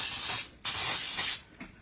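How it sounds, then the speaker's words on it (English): Pan baking spray hisses from an aerosol can into Nordic mini bundt pans in two long close bursts, then a short faint puff at the end. "I'm going to spray them with the pan baking spray for easy release."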